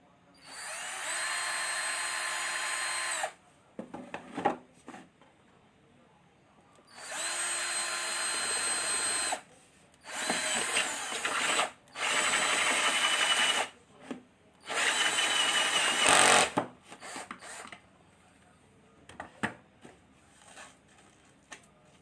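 A power drill whirs in several bursts of a few seconds each while drilling holes for a jet lift pump, separated by short pauses with scraping and handling noises.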